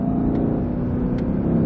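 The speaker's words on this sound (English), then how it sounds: "Listen to how big the sound change is from valves open to valves closed." Mercedes-AMG GLC 63 SUV fitted with a titanium exhaust and free-flow downpipes, revving with its exhaust valves closed, giving a steady, muted engine drone that holds even throughout.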